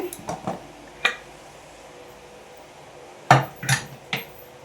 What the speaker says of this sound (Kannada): ಕುಕ್ಕರ್ ಓಪನ್ ಮಾಡ್ತಾ ಇದ್ದೀನಿ ನೋಡಿ